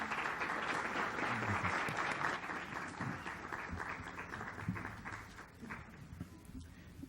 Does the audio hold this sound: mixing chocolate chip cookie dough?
no